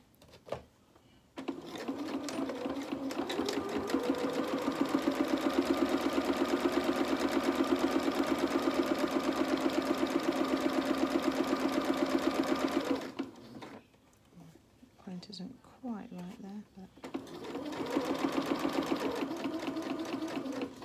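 A sewing machine stitches along a fabric edge for a T-shirt dress, a steady fast mechanical whirring and rattling run of about eleven seconds, close and clear, followed by short pauses and a brief second burst of stitching.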